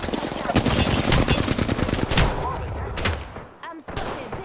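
Rapid automatic gunfire in the Apex Legends battle royale, dense bursts of shots rattling loudly and continuously for several seconds before thinning into a few scattered cracks near the end.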